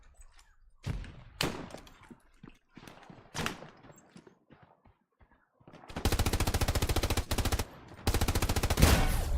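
Battlefield 1 gunfire: scattered single shots and short cracks early on, then two long, loud automatic bursts of rapid, evenly spaced rounds near the end.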